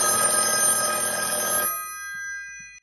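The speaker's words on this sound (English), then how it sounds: "When your cell phone rings, all connected telephones will also ring." A telephone bell rings loudly and continuously from a product demo of a cell-phone-to-landline adapter for antique and rotary telephones, then stops abruptly, leaving a faint tail.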